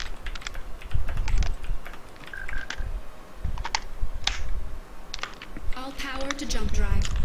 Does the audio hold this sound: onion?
no